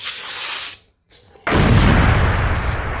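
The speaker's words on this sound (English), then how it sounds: "Mad explosions going off everywhere." A cluster of grenade explosions in a hero battle bursts out after a short near-silence, a loud sustained roar of blasts and rumble filling the rest of the moment.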